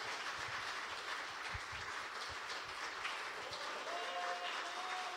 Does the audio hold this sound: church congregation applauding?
yes